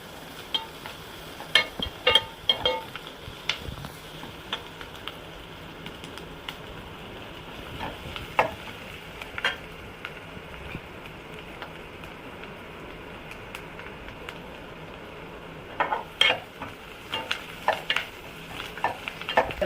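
Chopped onions sauté in oil in a pan for brinjal kara kuzhambu, giving a steady low sizzle with a spoon stirring and scraping in occasional bursts; no one speaks.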